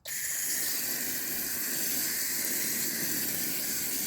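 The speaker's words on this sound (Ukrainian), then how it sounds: "Поливаю гарно яму. Прям заливаю цю подушку, яку підстелили під неї." Water pours steadily from a hose into a garden planting hole prepared for a bigleaf hydrangea, making a loud, continuous hissing rush that starts abruptly and never lets up.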